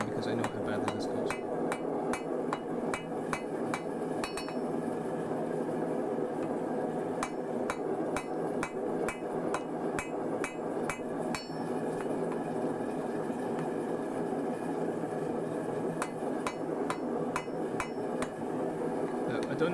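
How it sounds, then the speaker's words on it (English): Hammer blows ring out against steel in steady, repeated strikes while forge-welding a folded axe, the sharp metallic impacts loud and continuous over a constant background roar of the forge. "It sounds different when the steel is welded together."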